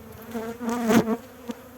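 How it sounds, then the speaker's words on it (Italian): Honeybees buzz over an open hive frame, a close droning hum that swells and peaks midway with a brief extra buzz after, no voices. "vedete che ci sono già delle api giovani, quelle pelose sono le api giovani che sono nate da poco"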